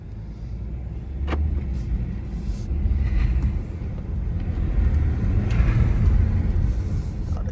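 A 2024 BMW 530i xDrive drives forward at night, with a low engine rumble and road noise that swell as it speeds up. A few faint knocks sound inside the cabin.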